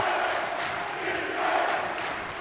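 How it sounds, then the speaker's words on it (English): A crowd at a women's college basketball quarterfinal, Oregon Tech against Bushnell, roars in a sustained, loud swell of cheering and shouting with the score tied late in the game. "listen to the crowd now. It's not just the OIT guys, it's everybody."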